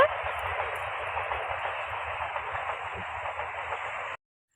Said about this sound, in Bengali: ওই দেখো ট্রেন যাচ্ছে